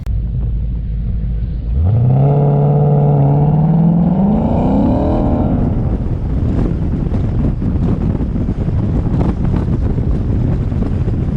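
A 2015 Ford Mustang with a 6R80 automatic launches off a transbrake, the engine note climbing sharply from idle into a loud sustained rev, then giving way to heavy wind rush and rumbling road noise as the car accelerates away.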